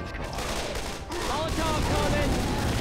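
Dense, continuous gunfire in the video game Left 4 Dead 2, a steady roar of shots with a rise in intensity partway through and voices under it.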